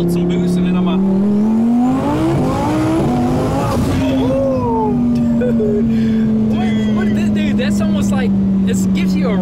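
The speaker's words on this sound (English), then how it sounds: "Like right now, second gear, I'm going to build some boosts" A twin-turbo 2020 Audi R8 accelerating hard in second gear while building boost, its engine note climbing steadily, then easing to a sustained loud drone with someone talking over it.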